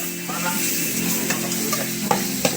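Beef and pepper stir-fry in a hot pan with a constant sizzle, as a utensil scrapes and tosses the meat and lands a couple of sharper knocks near the end.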